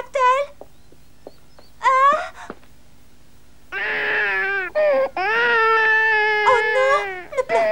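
An animated character from a French cartoon version of Alice in Wonderland cries, with short sobbing bursts followed by long loud wailing moans, close and alone.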